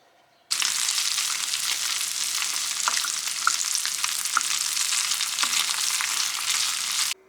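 Sliced kavurma meat sizzles loudly and steadily in a pan, starting abruptly and holding for several seconds with occasional small pops and ticks, with no talking.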